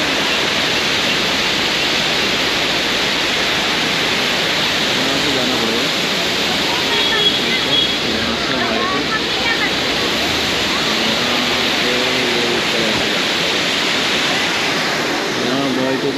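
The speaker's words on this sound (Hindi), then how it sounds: "ये नीर झरना" Neer waterfall near Rishikesh roars as a steady, broad wash of rushing water, loud and unbroken, with people's voices faintly mixed in.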